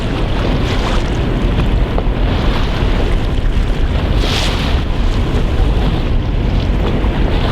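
The river roars below Wanapum Dam with a loud, constant rushing like ocean surf, with wind buffeting the microphone throughout.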